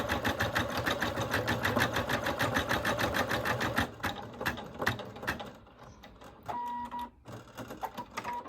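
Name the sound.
embroidery machine stitching lime green thread on patch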